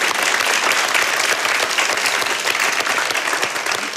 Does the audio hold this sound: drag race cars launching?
no